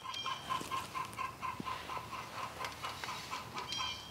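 Chickens cluck steadily in a farmyard, a few birds calling over one another with short repeated clucks at moderate distance.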